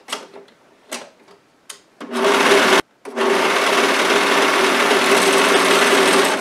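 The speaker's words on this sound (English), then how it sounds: "I'm gonna do mine on the serger." A few short, soft mechanical bursts give way to a loud, steady serger run sewing dress fabric, briefly stopping and then whirring on continuously up close.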